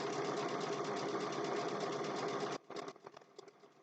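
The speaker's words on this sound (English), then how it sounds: "these are the things that you need to do when you're doing your stitching" A sewing machine stitches fabric on a snowman face mug rug, running a fast, steady mechanical whir close by for a couple of seconds before it stops, leaving a few soft clicks.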